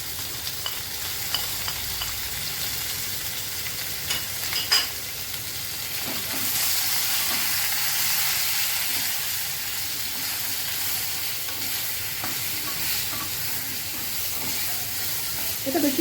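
Ridge gourd pieces fry in a pan with a little turmeric, giving a continuous hissing sizzle with occasional stirring knocks and scrapes that swells louder midway, heard up close without talk.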